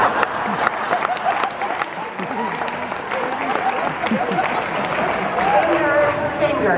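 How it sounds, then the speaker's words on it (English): Audience applause fills a General Assembly meeting hall, steady and dense for the whole stretch, with scattered voices and a murmur of talk mixed under the clapping. "Oh, I do enjoy good applause."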